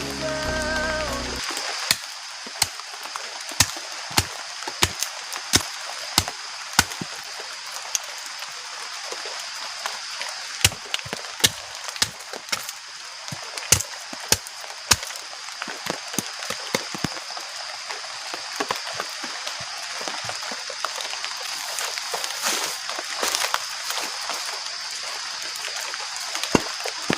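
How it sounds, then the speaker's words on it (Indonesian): Heavy rain pours onto a camping shelter during a storm with thunder and strong wind, a dense continuous hiss with sharp drops and taps striking the shelter surface throughout, loud and steady with no voices. "sekarang masih hujan"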